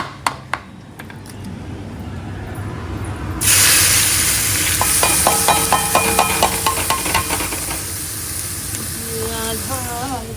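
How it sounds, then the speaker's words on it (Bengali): Chopped onion, green chilli and capsicum hit hot mustard oil with a sudden loud hiss that settles into a steady sizzle, close by, with light utensil taps throughout. "পেঁয়াজ, কাঁচা লঙ্কা আর ক্যাপসিকাম একসঙ্গে চপ করে নিয়েছি। এটা এবার তেলে দিয়ে দেবো।"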